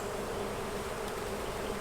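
Honey bees buzzing around a hive, a faint steady drone of many wings close by, continuous and without talk.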